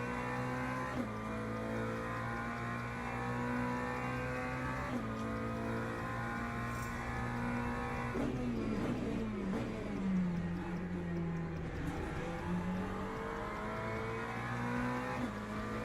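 A prototype race car engine in the sim racing game Le Mans Ultimate drones loudly and continuously, rising through revs then dipping with gear changes and braking before climbing again.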